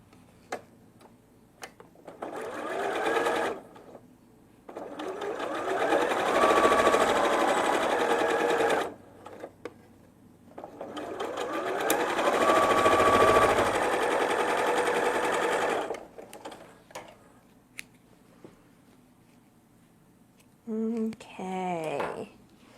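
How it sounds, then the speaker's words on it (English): Sewing machine stitching a quilting fabric strip laid bias side down, running in two long steady bursts of close, even motor whir with brief pauses and small handling clicks between them. "I'm going to put it into the machine with the bias side down."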